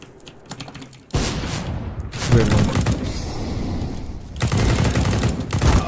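Gunfire in a video game, bursts of rapid rattling shots that start abruptly and return in clusters, close and loud, mixed with clicky keyboard-like clatter.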